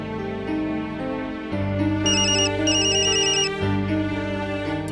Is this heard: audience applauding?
no